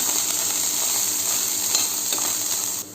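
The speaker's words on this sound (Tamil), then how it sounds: "இப்போது இந்த தாளித்த வெங்காயத்து கூட பட்டாணியை கொட்டிக்கலாம், மிக்ஸ் பண்ணி விட்டுக்கலாம்." Green peas being mixed into tempered onions in a pan give a steady, close sizzle with soft stirring scrapes that cut off abruptly near the end, with nobody speaking.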